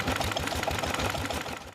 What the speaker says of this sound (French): Tracteurs anciens, véhicules de collection et moteurs fixes, ils ont vrombé toute la journée